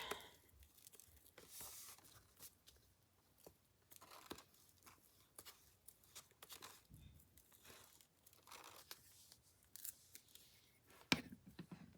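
Paper being trimmed with scissors during a crafting session with glue, heard as scattered close snips and crinkly rustles over a quiet background.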